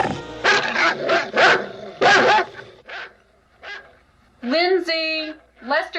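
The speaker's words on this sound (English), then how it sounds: "Lester's barking again and getting on my nerves again" A dog named Lester barks repeatedly in a nighttime scene from the 1978 horror film Halloween, sharp separate barks followed by higher yips and whimpers, with voices talking over the first barks.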